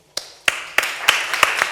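Sparse, hesitant claps from a small audience at a Spanish poetry reading, about seven separate sharp hits spaced roughly a third of a second apart, close and fairly light, with no voices.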